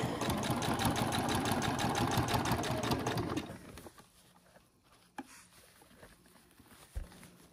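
A sewing machine stitching a backpack runs in a fast, steady mechanical patter for about three seconds, then stops, leaving faint handling noises and a soft thump nearby.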